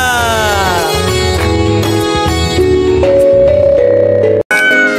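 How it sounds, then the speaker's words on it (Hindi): A loud, continuous cat meow sung in a melodic, drawn-out style over music in a Hindi children's rhyme, repeating in rising and falling tones. "बिल्ली करती म्याऊ"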